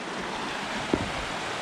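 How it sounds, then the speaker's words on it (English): A big creek flowing near Swatara Forge, a steady broad rush of water heard alone, with wind buffeting the microphone and a brief soft knock midway. "This is a big creek."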